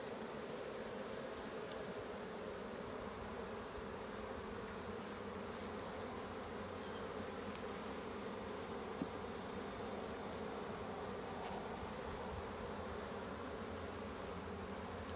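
A dense, steady drone of many honeybees buzzes around an open hive for the whole stretch, soft but continuous, with no voices.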